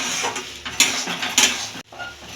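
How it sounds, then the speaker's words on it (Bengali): A spoon scrapes and clanks against a pan while potato and egg filling with garam masala is stirred, with a few sharp metallic knocks amid the shuffling, then a short pause near the end. "এবার এর মধ্যে একটু গরম মশলা দিয়ে এটাকে ভালো করে আরই মাখা করে নেব"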